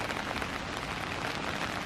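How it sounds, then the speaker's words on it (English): Rain falls on an urban cottage garden in September, a faint, steady patter of drops on leaves and surfaces with no voices over it. "I will continue to enjoy the rain"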